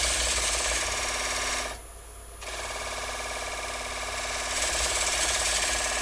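Metal lathe cutting while the tool handle is eased down, a loud, harsh, continuous grinding drone with a short dip near the two-second mark before the full roar returns.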